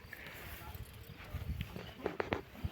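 A working stallion's hooves clop on hard ground in an uneven rhythm, getting louder toward the end, with muffled voices and background noise underneath.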